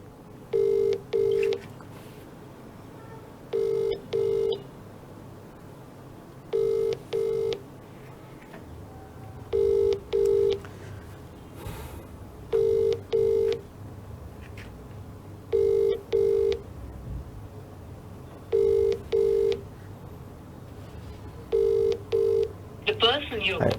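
Touch-tone telephone keypad beeps sound in evenly spaced pairs every few seconds over a steady low background hum, like a phone number being dialed repeatedly during a news broadcast segment.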